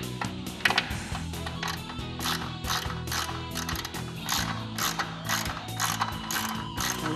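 A hand ratchet tightens bolts on a JLG Liftpod during rope replacement, making rapid, close bursts of sharp metallic clicking in repeated strokes with brief pauses between them.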